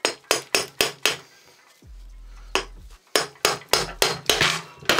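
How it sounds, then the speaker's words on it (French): A screwdriver taps hard on the carburetor of a Bima Griffon moped engine, giving crisp metallic knocks close by. A quick run of about five taps comes first, then a pause with a low hum, then another rapid burst of strikes. "Je l'ai tapé avec le tournevis, il était complètement mis dedans à l'intérieur"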